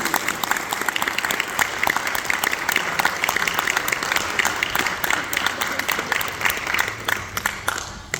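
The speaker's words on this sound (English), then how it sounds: "give them a round of applause" A crowd applauds at a high school National Honor Society induction, sustained, dense clapping filling the hall at an even level throughout, with faint voices mixed in.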